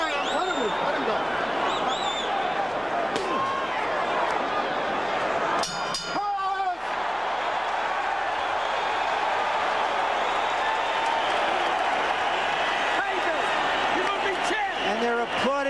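Arena crowd at a Holyfield–Foreman heavyweight boxing match gives George Foreman a standing ovation: dense, continuous roar of cheering and applause fills the whole stretch, loud and sustained, with scattered whistles and voices mixed in.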